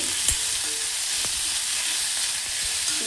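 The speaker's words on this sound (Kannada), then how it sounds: "ಈ ಈರುಳ್ಳಿ ಕೂಡ ಚೆನ್ನಾಗಿ ಬಾಡಬೇಕು, ಕಲರ್ ಚೇಂಜ್ ಆಗೋವರೆಗೂ ಬೆಂದ್ಕೊಳ್ಳಿ." Sliced onions and curry leaves frying in a pan for radish sambar, a continuous close sizzle with a few light stirring taps, no talking.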